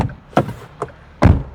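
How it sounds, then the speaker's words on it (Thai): Closing the door of a Geely Geometry O electric car gives a solid, close-up thunk. A couple of lighter taps and clicks from the door come just before it. "เสียงปิดประตู"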